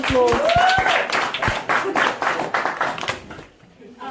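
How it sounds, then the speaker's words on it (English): A classroom audience claps for two students about to give a report on sports games in England, a short burst of scattered hand claps close by, mixed with voices and fading out after about three and a half seconds. "Applause, guys, applause."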